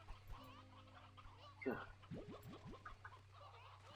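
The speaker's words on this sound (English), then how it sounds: "Why do I have loose roosters? I mean, why do I have so many roosters?" Roosters and hens cluck and squawk in short bursts in Slime Rancher 2, with a sharp call midway and a few brief clucks after it, moderately close over a low game hum while a person groans briefly.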